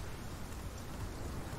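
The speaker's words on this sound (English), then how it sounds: "Sorry about the rain." Steady, even hiss of rain falling in the dinosaur game Path of Titans, a soft continuous wash with no other sounds.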